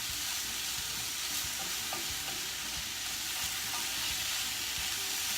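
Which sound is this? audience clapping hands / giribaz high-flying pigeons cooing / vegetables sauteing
vegetables sauteing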